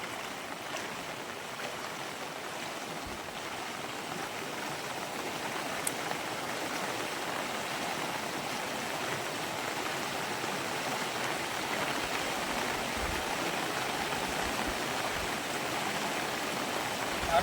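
A rain-swollen stream flows in a steady, full rush of water that continues evenly throughout at moderate loudness, with no one speaking over it.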